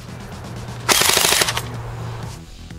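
A Well R4 MP7 electric airsoft gun fires a short full-auto burst of about half a second at roughly 750 rounds per minute, a rapid crisp clatter of distinct shots, close and loud against a quiet background.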